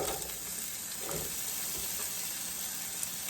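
Onion sizzling in two to three tablespoons of hot oil, a steady moderate hiss with a soft wash of frying noise and one faint clink near the end, no voices.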